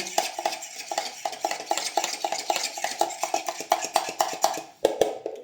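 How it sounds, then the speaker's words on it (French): A spoon stirs salted water in a bowl for puff pastry dough, a steady run of quick metallic clinks and scrapes against the sides. "Je mélange mon eau, je vérifie que le sel il est bien dissous"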